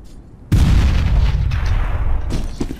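A grenade detonates in CS:GO as an abrupt loud boom after a half-second lull, followed by a rumbling, decaying tail with faint scattered game sounds underneath.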